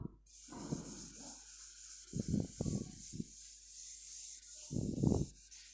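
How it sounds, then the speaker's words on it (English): A duster rubs a classroom board clean in several short scrubbing strokes, close and fairly soft, separated by quiet pauses over a steady background hiss. "I'm rubbing it off now."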